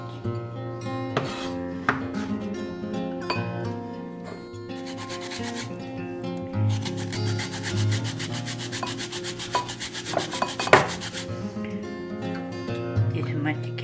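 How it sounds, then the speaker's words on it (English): Carrot being grated for fried wontons makes repeated rough rasping strokes, steady and close, with a few knocks on the grater and quiet speech between passes. "Peel the carrot first and then grate it if you have a grater."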